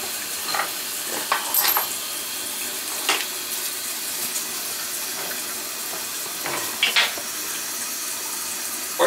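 An old toilet leaking water from its flange after flushing: a steady, close rush of water runs throughout, broken by occasional splashy gurgles and drips, with no talk.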